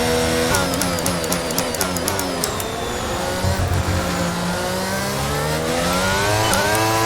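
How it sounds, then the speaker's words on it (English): A race car engine in the F1 22 video game at Circuit of the Americas, a loud, high-pitched continuous scream that rises and falls through gear changes and corners, with sharp clicking blips and no talk. "And we are racing again here at Circuit of the Americas."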